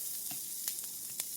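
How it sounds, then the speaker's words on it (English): Chicken parmesan meatballs sizzle in oil in an #8 Lancaster cast iron skillet, a steady close hiss broken by a few soft pops and crackles. "You hear that sizzle?"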